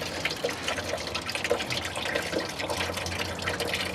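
Coolant gushes from the opened radiator of a 1982 Ford F150, a steady splashing, trickling stream with small drips and gurgles close by.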